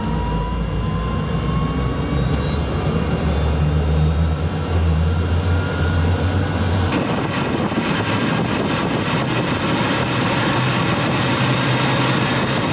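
An MD 600N helicopter's turbine engine spins up as it starts, a loud, steady whine and roar that rises in pitch with a broadband rush strengthening partway through, with no talking over it.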